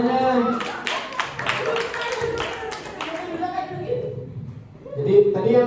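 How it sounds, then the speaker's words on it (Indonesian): A seminar audience claps along in short rhythmic bursts, with several sharp sets of claps mixed with chatter and laughter from the group. "Tepuk tangan dulu dong semuanya."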